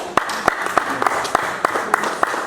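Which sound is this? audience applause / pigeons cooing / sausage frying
audience applause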